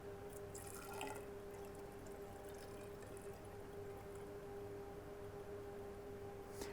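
Alcohol distillate dripping from a reflux still into a collection cylinder, a steady faint trickle and patter of liquid over a constant low hum, with no one speaking.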